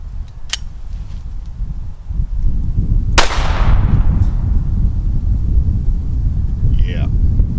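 A GSG 1911 pistol chambered in .22 Long Rifle fires two sharp, loud cracks a few seconds apart outdoors, under steady wind rumble on the microphone.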